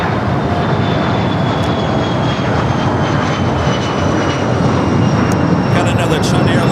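An Airbus A320neo jet in Volaris livery at Los Angeles airport gives a steady, loud engine roar with a faint high whine, continuous throughout amid broad airport noise.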